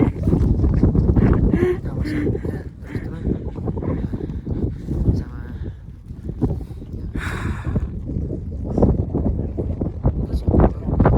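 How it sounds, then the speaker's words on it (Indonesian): Strong wind buffets the microphone on the summit of Mount Slamet, the highest point in Central Java, with steady loud rumbling gusts throughout as people talk over it. "Angin nih."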